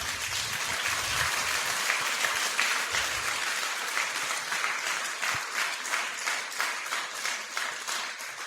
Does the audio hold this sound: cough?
no